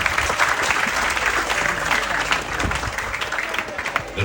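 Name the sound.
audience applause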